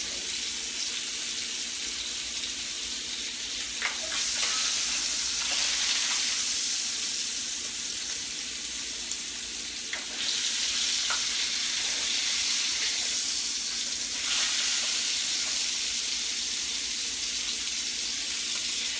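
Country style pork ribs in sticky sauce frying in a pan, a steady loud sizzle with occasional pops and scrapes, close up and continuous with no speech.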